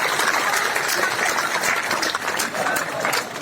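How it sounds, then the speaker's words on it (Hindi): A crowd at a political rally applauding, dense continuous clapping that holds steady and fairly loud for a few seconds. "एक बार जोरदार तालियों के साथ आदरणीय नड्डा जी को और माननीय प्रधानमंत्री जी का जोरदार स्वागत और धन्यवाद"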